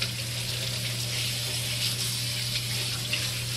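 Water runs steadily from a kitchen tap into a sink, a continuous close splashing rush with no pauses, heard alone without talk.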